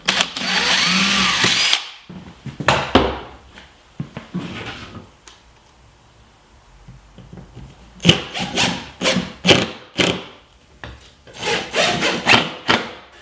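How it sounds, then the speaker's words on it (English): A power drill bores through aluminum flashing on a beehive roof, ready for number 10 sheet metal screws: a long first burst, a pause with faint handling, then a run of short close drill bursts in quick succession. "it's a good idea to drill through the aluminum first"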